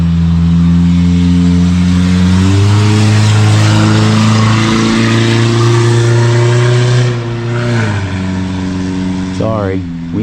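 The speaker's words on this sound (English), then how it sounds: "Sorry, we need a little muffler work." A car engine with a loud, worn muffler rumbles steadily up close, a deep droning exhaust that shifts pitch a couple of times as it idles and revs.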